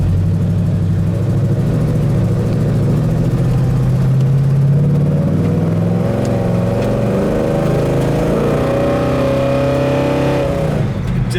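A 1970 Pontiac GTO's V8 rumbles steadily throughout, a deep, loud idle that rises and swells slightly toward the end, with no voices over it.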